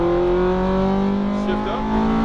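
A Ferrari F430 engine sits at a loud, steady pitch with a rich harmonic drone, then rises as the car accelerates out of a corner, heard from inside the car over light road noise.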